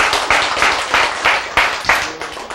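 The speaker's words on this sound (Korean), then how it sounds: "박수 잘 치면서." Hands clapping in a steady series of sharp claps, roughly one every third of a second, fairly loud and close, with no talk over them.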